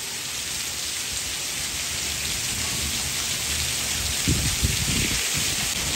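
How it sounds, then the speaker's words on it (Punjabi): Hail falls outdoors in a steady, dense hiss of countless small impacts, with a few louder thumps of ice striking a surface near the end. "ਫੇਰ ਬਰਫ ਆ ਗਈ ਫੇਰ ਬਰਫ ਆ ਗਈ ਵਿੱਚ ਜੀ ਰੁਕੀ ਸੀ ਫੇਰ ਆਉਣ ਲੱਗ ਪਿਆ"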